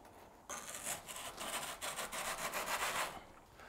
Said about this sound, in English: Apply the paste to the post and the inside of the seat tube of your frame.